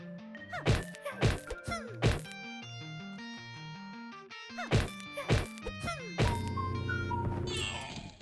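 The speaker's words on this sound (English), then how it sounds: "That's the sound of one of those big cauldron" A big cauldron enemy from the video game Spyro 1 makes a series of loud metallic thunks and clangs over tonal game music, with pitched bubbling and a rising swell at the end.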